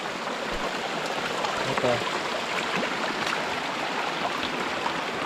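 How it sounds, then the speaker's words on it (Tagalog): Mountain spring water flowing from beneath rock at a hill's foot in a rural province, a steady broadband rushing and gurgling close by, with brief speech over it. "hindi na ilog, yung tubig lang galing sa bundok"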